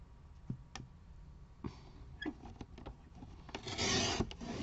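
Pencil or pen drawing a diagonal line on paper while making a scrapbooking card, heard as quiet, intermittent scratchy rubs and light taps, with a longer rasping stroke near the end.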